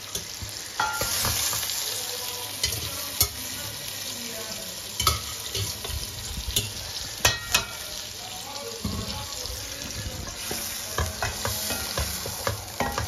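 Meat pieces frying in ghee, an uneven sizzle and hiss with repeated sharp ladle knocks and scrapes against the pot, close by, with a quieter stretch partway through and no talk.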